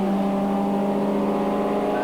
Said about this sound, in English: It's the Camaro versus the Beetle.